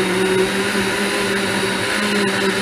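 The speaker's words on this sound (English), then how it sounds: "And then we just blend. You have to have a strong blender." A strong blender whirs loudly and steadily, close by, as it mixes rum popo with ice; the motor drone is even and continuous with no talking.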